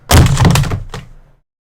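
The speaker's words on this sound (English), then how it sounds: "That was the sound of 3DS cases falling onto my keyboard." Plastic Nintendo 3DS game cases clatter down onto a keyboard in a quick tumbling thunk, followed by one smaller clack as the last piece settles.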